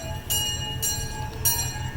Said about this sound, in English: Looks like the train's about to take off.